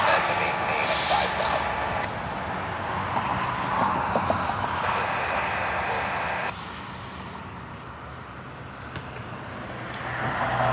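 Distant jet airliners departing Cleveland Hopkins airport, a steady broad engine roar that swells and eases over several seconds, with ambient outdoor noise throughout.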